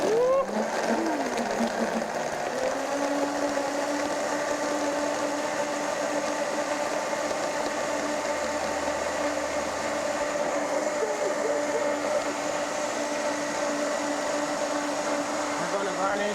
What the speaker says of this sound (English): And we're going to blend. Fresh blender.